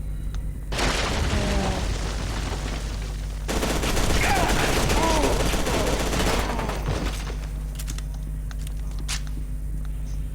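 Dense bursts of gunfire in the shooter game F.E.A.R. 2: Project Origin, rapid automatic volleys in two long stretches with booming impacts, loud and close, fading to quieter ambience at the end.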